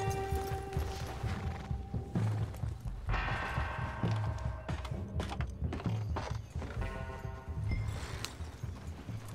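Hooves clip-clopping from a horse in Red Dead Redemption 2, a repeated walking rhythm of muffled thuds mixed with tonal game music and ambient mechanical sounds, fairly quiet with no talk.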